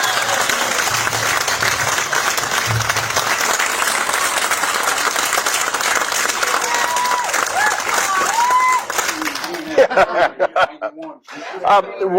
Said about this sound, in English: Please give Paul a big round of applause.